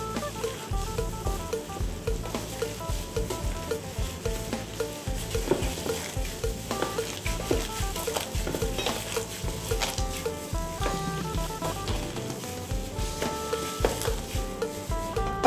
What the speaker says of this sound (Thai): ตามด้วยไข่ไก่นะคะ ขยำให้เข้ากันอีกรอบค่ะ